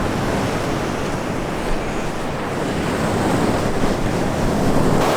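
Sea waves wash continuously onto the shore at San Blas, Nayarit, a loud, broad roar of surf mixed with wind buffeting the microphone, with no voices.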